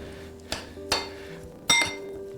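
A utensil clinks sharply against a bowl three times while salsa ingredients with garlic are mixed. Each strike is short and bright, with quiet stirring between them.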